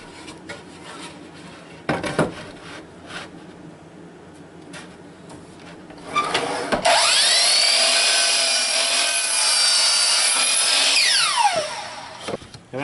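A power saw set to a 15-degree angle cuts through a log slab for a bench, a loud sustained whine starting partway through and running steadily for several seconds before winding down, after quieter workshop knocks and handling.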